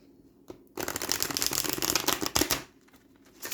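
Tarot cards are shuffled close up: a brief tap, then a rapid papery riffle of cards flicking together for about two seconds, trailing off into softer handling sounds.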